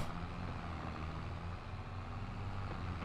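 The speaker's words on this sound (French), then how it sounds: "Ah, j'entends une voiture." Vehicle engine in Farming Simulator 22, a steady low rumble with a truck-like drone, continuous and moderately loud throughout with no talking.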